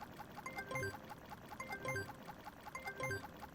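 Water is poured in by the bottle into a crypto farm in a video game. A soft splashing pour effect repeats three times at an even pace, faint against a low background.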